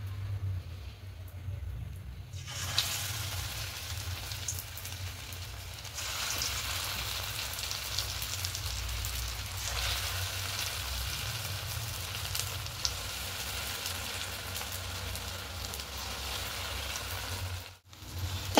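Sago fritters (sabu bora) frying in hot oil give off a steady, close sizzle that runs continuously, with a brief dropout near the end and no talk.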